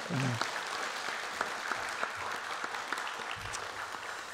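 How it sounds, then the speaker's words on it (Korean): A church congregation at a Sunday worship service applauds for its middle and high school youth group, with dense, steady clapping from a large crowd throughout. "우리 중고등부 아이들에게 다시 한번 큰 박수로"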